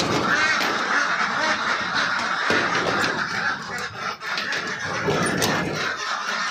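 Farm ducks quack loudly and continuously, a dense overlapping chorus from a flock close by with no clear pauses.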